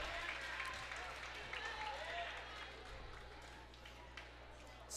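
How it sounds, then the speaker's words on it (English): A student section cheers at a high school wrestling match on senior night, a distant crowd roar and clapping under a commentator talking. "Student section up there cheering for Cohen."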